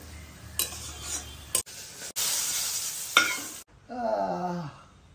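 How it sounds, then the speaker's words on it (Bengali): Curry sautés in a pan at home with a steady hissing sizzle, broken by a few sharp spoon scrapes and brief gaps, ending in a short rising whine. "এই দিকটায় কষিয়েও নিচ্ছি বলতে পারো"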